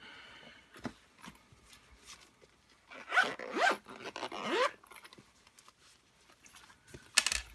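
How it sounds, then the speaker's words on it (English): Zipping a Leuchtturm 1917 A5 notebook case closed with a pen inside, a few quick rasping zipper pulls in close succession, close and fairly quiet, with faint handling rustles and no talk. "It zips up fine."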